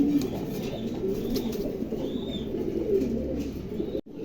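A pair of Andalusian pigeons coo close by, giving soft, low, repeated throaty murmurs over a steady background hum, with a brief knock near the end.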